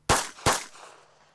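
A pistol fired as a controlled pair at a training drill: two sharp, loud shots about 0.4 seconds apart, each followed by a short decaying echo, with no talking.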